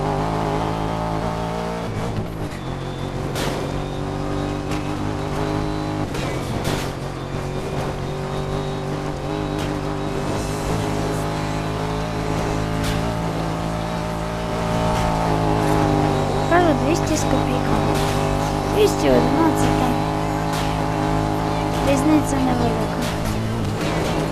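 Ford Mustang engine droning steadily while driving in Need for Speed, with a rising rev and tire noise later on, under near-constant talking.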